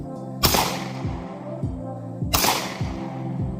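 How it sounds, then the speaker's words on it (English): Two loud handgun shots about two seconds apart, fired outdoors at a Fourth of July gathering, each a sharp broadband crack over a low rumbling engine hum. "Just shoot one bullet. Shoot one bullet."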